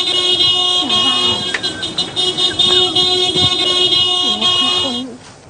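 A car horn honks in a sustained, steady blare that runs almost the whole time, with the low rumble of a running vehicle close by and occasional voices underneath.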